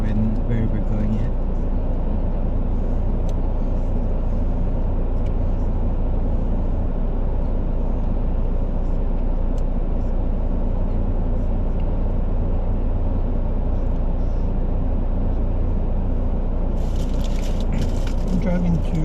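A car drives steadily along Australian back roads, with a constant low engine and road rumble heard from inside the cabin throughout and occasional faint rattles over the top.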